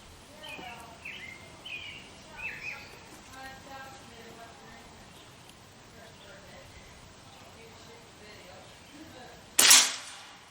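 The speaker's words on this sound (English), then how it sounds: "Let's take this final shot and see if we can reset the target." A single sharp, loud crack near the end from a Crosman 1322 air pistol fitted with a stock, fired outdoors after a quiet stretch of birdsong and low talk.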